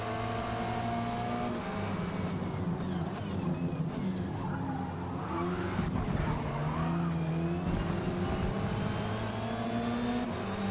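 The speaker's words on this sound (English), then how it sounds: "Had to kind of slam my brakes to make sure I didn't rear end the green car" A race car in a touring car racing video game brakes hard, its engine droning loud and steady with shifting revs and a tire squeal running under it, no talk over the sound.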